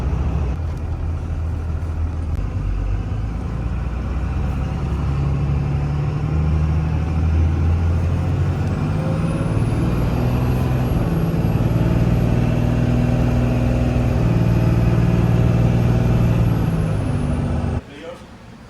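A 2nd gen Cummins 24-valve diesel pickup runs with a steady low rumble throughout, close and loud, before cutting off abruptly near the end; faint talk mixes in.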